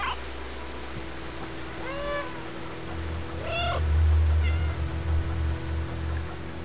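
A cat in the video game Stray meows several times, drawn-out rising calls spaced a second or so apart over a steady ambient hum, with a louder low rumble swelling in the middle.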